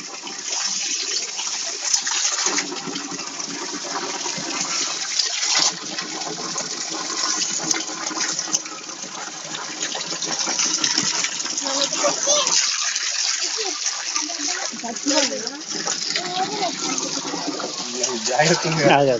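A forest waterfall at the Chintamani falls pours continuously from above, a loud, steady broadband rush of falling water that fills the whole stretch, with people talking over it.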